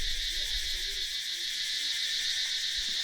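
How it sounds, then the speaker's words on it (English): Loud, steady insect chorus in a Thai national park at Khao Sam Roi Yot, a dense continuous high-pitched drone filling the air without pause, with faint low rumble beneath and no talking. "Man, listen to the sound of those insects."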